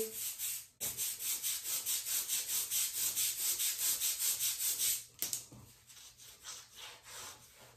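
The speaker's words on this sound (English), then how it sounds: "Then typically I wipe it off with that same all-purpose cloth." An all-purpose cloth rhythmically rubs soap residue off a surface, a steady series of close, scratchy back-and-forth wipes with a brief pause, then slower strokes.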